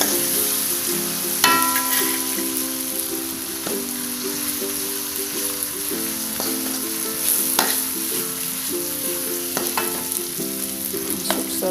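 Ground spice paste with lemongrass and bay leaves sizzles steadily in a pan for a Cirebon green chili vegetable dish with shrimp, while a utensil scrapes and clinks against the metal at irregular intervals.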